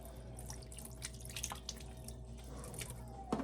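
Water trickles and drips from a tap as soapy hands are rinsed, quiet uneven splashes and patters over a low background hum, ending in a short brighter splash.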